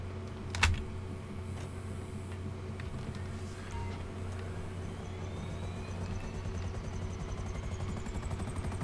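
A Buzzard helicopter in GTA 5 Online whirs with a steady, continuous rotor and engine drone, joined by a brief click near the start and constant low mechanical hum throughout.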